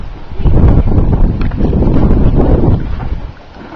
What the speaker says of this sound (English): Holy moly, it's windy out here.